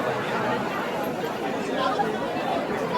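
Dense crowd chatter at the Ekvira temple on a busy Sunday: many overlapping voices forming a steady, continuous murmur with no single clear speaker standing out.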